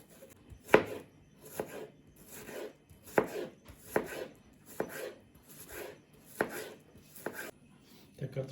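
An onion being chopped with a knife on a board for a potato dish, with about ten crisp, evenly spaced thuds close by and quiet between strokes, no speech.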